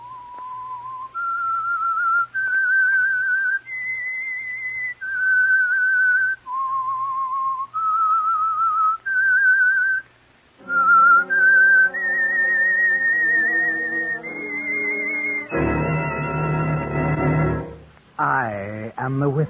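A lone whistler carries a slow, eerie melody of sustained notes up and down the scale, later joined by an orchestral accompaniment that swells to a loud, full chord at the end, in the style of an old-time radio theme.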